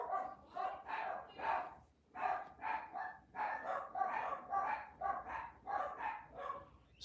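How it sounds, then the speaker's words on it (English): Dogs barking indoors in a rapid, continuous series of yips and barks, several dogs overlapping at moderate distance with brief pauses between bursts. "Dogs are going crazy."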